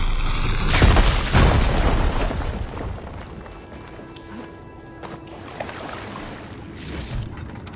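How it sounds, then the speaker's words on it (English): Fire gleam blown up in the Horizon Forbidden West game, a loud booming explosion near the start with a second blast, then a rumbling, crackling tail fading into quieter ambience. "Should be able to blow up that fire gleam."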